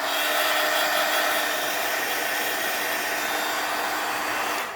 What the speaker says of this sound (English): Sounds like a hairdryer. But this I dry my stuff with.